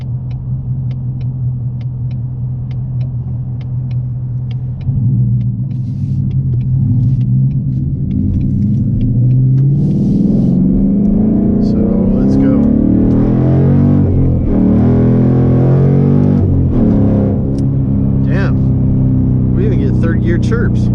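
A 2019 Mustang GT with an MT-82 manual transmission and new bushing, engine rumbling loud and close, then revving hard through gears with rising and falling pitch sweeps; someone talks over it.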